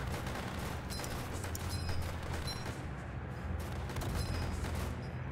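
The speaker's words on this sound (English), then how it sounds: "the bazookas do quite a bit, like, sometimes. And then the machine gunners do insane cleanup." Bazookas and machine gunners firing in Northend Tower Defense come through as a steady, distant wash of rattling shots and faint pops, with small clicks above a low rumble and no voices.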